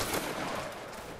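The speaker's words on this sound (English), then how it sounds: "Everyone present, aim straight at them, and fire." A massed musket volley fired by a line of soldiers in a multiplayer Napoleonic-era battle game, heard as a dense, rolling burst of overlapping shots that decays into a rumbling tail.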